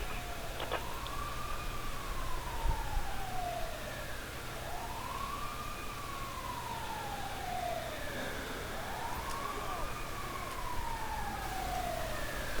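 Wailing emergency siren from an ambulance in the LSPDFR police game, sweeping up and down in long repeated cycles with steady traffic rumble beneath, moderately distant and sounding alone without talk.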